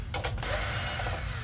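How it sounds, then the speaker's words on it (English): A small electric screwdriver with a T9 bit whirs as it backs out a screw from the aluminum plate of a PS5 console, a brief close buzzing burst without speech. "we're going to take our T9 bit again and just take off all these screws here"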